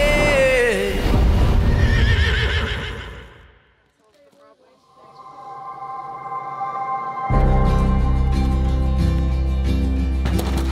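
Surrendered horses in shelter stalls, with a loud close whinny at the start, then a quiet lull, followed by louder barn noise and a busy mix of sounds, with talking present.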